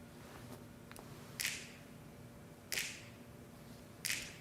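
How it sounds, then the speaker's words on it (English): Recorded finger snaps open a tune, three crisp, roomy snaps spaced about every one and a half seconds over a faint low background, with no talk. "Here are the snaps right off the top of the tune."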